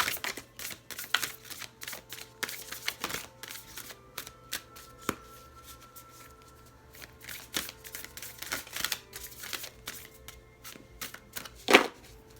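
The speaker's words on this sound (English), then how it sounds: "These are kind of awkward to shuffle because they're so big" Large tarot cards shuffled by hand indoors, a quiet irregular run of soft slaps, riffles and flicks over about twelve seconds, with one sharper snap near the end.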